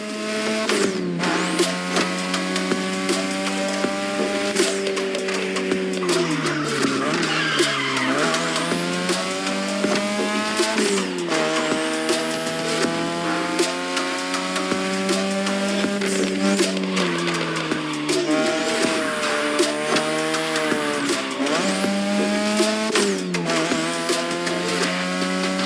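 Touge racing in The Crew Motorfest video game: car engines rev and rise through the gears again and again, with tires squealing in long skids, loud and continuous, no talking.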